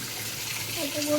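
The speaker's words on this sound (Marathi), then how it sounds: "तर आता धुवून घेतो पाण्यात टाकून." Mangoes being washed in a tub of water, a brief loud rush and slosh of water close by, with a voice cutting in near the end.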